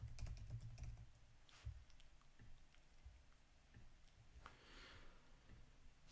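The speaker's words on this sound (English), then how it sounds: "Let me try and type this." Soft clicking of keys being typed on a computer keyboard during a fantasy football stream, faint and close, in short irregular bursts with pauses between, with no speech over it.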